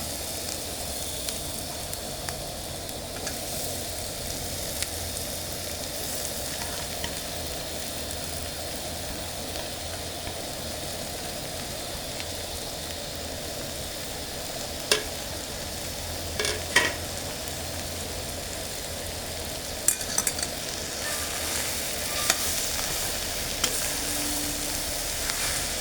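Boiled, mashed potato cooked with turmeric and salt in a pan, a low continuous sizzle under steady stirring, with a few sharper clicks and scrapes of the spoon and no talking.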